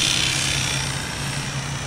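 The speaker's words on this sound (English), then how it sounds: "We figured might as well flip the helicopter over, see what happens." An autonomous model helicopter takes off inverted close to the ground, flying a recorded sequence of pilot controls, its rotor and engine producing a steady, loud, buzzing whir throughout with no talk.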